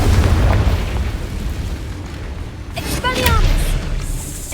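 A Confringo spell exploding in Hogwarts Legacy, a booming blast at the start that rumbles and fades, followed by a shimmering magical whoosh with warbling tones.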